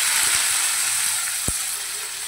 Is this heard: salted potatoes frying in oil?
yes